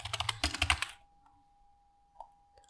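A quick burst of computer keyboard typing, several close key clicks in rapid succession during the first second, followed by a faint steady tone and a couple of isolated soft clicks in a quiet room.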